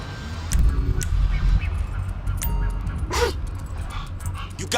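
Chop, the dog in GTA 5, gives a few short barks and yips amid game sounds, with brief voice snippets and a faint whine near the end.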